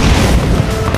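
Booming explosion in the video game H1Z1, a dense, loud, low rumbling blast that fills the whole second without easing, with no talk over it.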